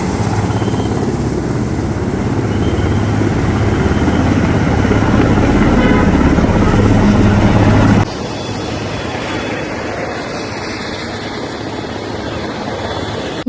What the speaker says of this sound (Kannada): ಮೂರ್ನಾಲ್ಕು ಹೆಲಿಕಾಪ್ಟರಲ್ಲಿ ಜೊತೆಗೆ ಶೋ ಕೊಡ್ತಿದ್ರು